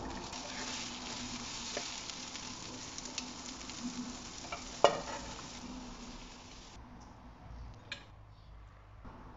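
Chopped bell peppers, yellow or green, fry in a pan on the stove with a steady close sizzle and stirring, a sharp utensil knock near the middle, then the hiss thins and quiets toward the end.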